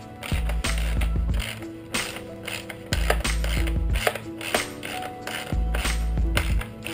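A ratcheting tool tightening the projector housing screws on a 2011 Subaru WRX headlight, close, loud, repeated clicking runs broken by brief pauses and light plastic taps.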